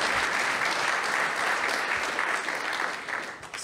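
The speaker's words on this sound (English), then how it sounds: "you guys need the round of applause for this facility" A crowd claps steadily throughout at a ribbon-cutting ceremony for a gaming lab, dense and even, with no break in the applause.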